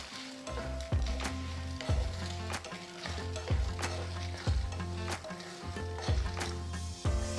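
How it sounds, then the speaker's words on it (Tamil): Steady sizzling and crackling of lentils and dried red chilies roasting in a hot pan over low flame, with repeated scraping stirs at a regular rhythm, close and fairly loud. "ஆறு காஞ்ச மிளகாய் சேர்த்து வறுத்துக்கோங்க வறுக்கும்போது அடுப்பை லோ ஃப்ளேமில் வச்சு வறுக்கணும்"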